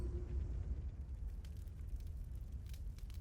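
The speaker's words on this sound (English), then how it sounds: "I've never just sat and watched a fire like this before" A campfire in the video game Tales of Arise burns steadily, a low continuous rumble with faint crackles, close and moderately quiet, with no talk over it.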